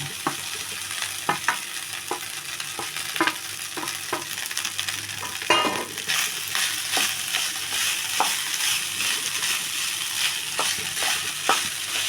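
Rice being stirred into capsicum gojju in a pan for capsicum chitranna, steady sizzling with repeated sharp scrapes and clicks of the spoon against the pan, close and continuous, no voices.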